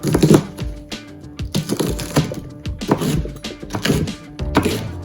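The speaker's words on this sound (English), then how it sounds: "Remove the stems from the chilies and give them a rough chop." A knife roughly chops red chilies rapidly on a wooden board, with irregular thuds and taps in quick bursts, close and fairly loud.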